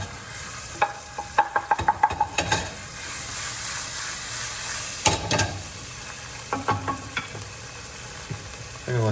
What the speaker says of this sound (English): Here it's sizzling.